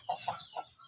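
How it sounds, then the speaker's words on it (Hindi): An Aseel rooster recovering from a cold clucks three short times in quick succession, close and fairly soft, with no voices present. "तो ये मुर्गा आपके सामने मौजूद है माशाल्लाह।"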